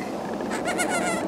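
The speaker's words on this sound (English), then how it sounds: "Hello, baby goat." A one-day-old premature baby goat bleats once, a short, wavering, close cry that rises above a soft background hum.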